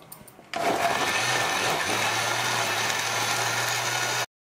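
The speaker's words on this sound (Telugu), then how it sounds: "మిక్సీ పట్టేద్దాం" A kitchen mixer grinder whirs loudly and steadily, blending cooled cooked tomatoes for chutney, starting abruptly after a brief quieter moment and running close-up until it cuts off.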